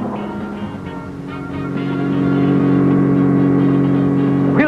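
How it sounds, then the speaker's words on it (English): A Ford Capri chased by a red Porsche along a coastal road in a 1971 film car chase: loud engines whine and rev with rising pitch, building to a sustained roar and ending on a sharp sweep, with no talking. "the Ford Capri with Nick Hallmark is being chased relentlessly by Bobo Mota in his red Porsche"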